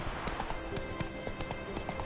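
Roach, a horse in The Witcher 3 video game, gallops in a steady clip-clop of hoofbeats, evenly spaced and close, over a constant ambient bed with faint voices beneath.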